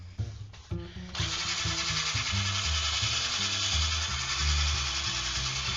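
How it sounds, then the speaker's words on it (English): A power drill fitted with a 5-inch piece of 220-grit sandpaper whirs steadily with a gritty sanding hiss as it spins against a rusty scroll saw, loud and continuous after a brief start-up. "I have been using just a drill with a 5-inch piece of sandpaper on here."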